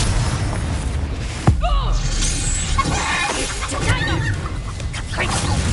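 A Confringo blasting spell explodes in the Hogwarts Legacy video game: one sharp boom lands early, then a dense bed of game effects and voices continues beneath it.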